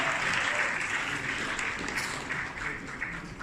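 An audience at the Kathmandu Himalayan Travel Mart event applauds an honoree, steady mid-level clapping from a crowd that tapers slightly toward the end.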